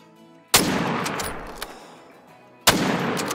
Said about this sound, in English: I think we're going to get ready and take a shot on this giant buck